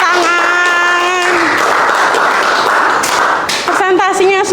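A class of students claps after a presentation, a loud, dense burst of applause in the middle of the moment, with voices talking over it before and after.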